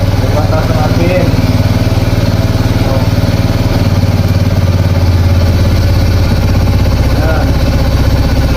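2010 Honda Smash 115 motorcycle with a weak battery and no push start, its small engine revved high in a steady loud drone that eases slightly, with people talking over it.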